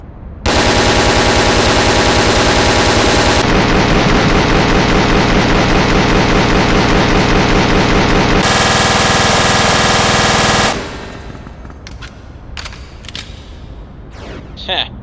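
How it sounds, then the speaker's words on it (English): A drum-fed machine gun in the Resident Evil: Dead Aim video game fires long, continuous, loud bursts of rapid shots for about ten seconds, then stops, leaving clattering mechanical noises and fading echoes. "drum machine gun can fire 100-round bursts"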